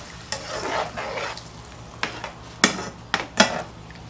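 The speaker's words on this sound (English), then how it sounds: "And we're going to deglaze the bottom." Beef broth poured into a hot pan to deglaze it after frying pork chops, a steady sizzle with stirring and several sharp scraping clacks of a utensil against the pan near the end.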